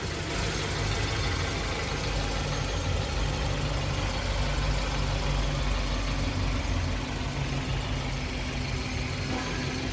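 A 2011 Hyundai Avante with a 2.0 engine and automatic transmission idles steadily for the full length, a low even hum under broad hiss, close and unchanging, with no voices.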